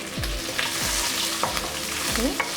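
Dried red chillies and green chillies fry in hot oil with mustard seeds and curry leaves, giving a loud continuous sizzle with repeated stirring scrapes and clanks, without speech.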